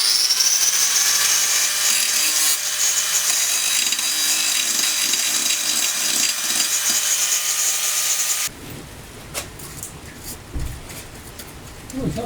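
An angle grinder cuts into metal on the rusty underbody of a Mk2 Golf GTI, a loud sustained whine for about eight seconds before it stops, leaving quieter knocks and handling noise.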